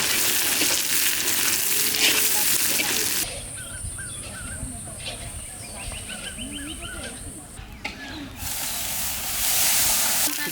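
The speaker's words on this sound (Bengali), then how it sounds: "তেলটা হয়ে গেছে এখন পেঁয়াজ দিয়ে ভাজি করে নেবো" Onions frying in hot oil on a home stove for a catla fish curry, a steady sizzle and hiss with gentle stirring, broken by a quieter middle stretch with faint chirps and low voices nearby.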